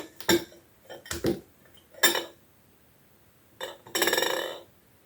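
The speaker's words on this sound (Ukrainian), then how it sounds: "Це я все перемішую гарно." A spoon stirs a small batch of water with a little salicylic acid, clinking against the container in a few separate bursts, then one longer run of quick rattling strokes near the end, close and moderately loud with no talking.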